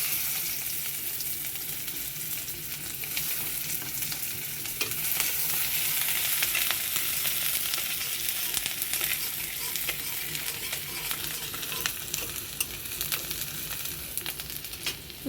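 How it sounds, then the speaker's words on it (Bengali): Chopped onions fry in oil in a pan with a steady, moderately loud sizzle, broken by repeated scraping stirs, and no one speaks. "তো পেঁয়াজটা লাল করে ভাজা হয়ে গেছে"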